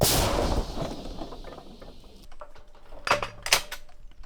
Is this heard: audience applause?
no